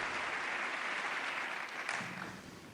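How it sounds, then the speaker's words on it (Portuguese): A standing audience at the US Congress applauds Pope Francis in a dense, sustained roar of clapping that fills the large chamber, easing slightly toward the end. "E novamente todos de pé aplaudem Papa Francisco."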